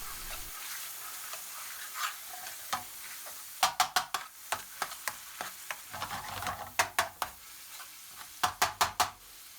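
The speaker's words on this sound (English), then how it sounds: "When the onions are soft, add the tomato paste and fry off for a minute or 2." Onions and tomato paste frying in a pan, a soft sizzle broken by clusters of sharp scraping and tapping from stirring, without speech.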